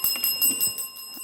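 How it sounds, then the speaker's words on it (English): A quiz show bell at a schools' challenge competition rings out to end the final round, giving several repeated bright metallic strikes in quick succession, close and clear with no talk over it. "that bell signifies the end of our final challenge, the end of the match"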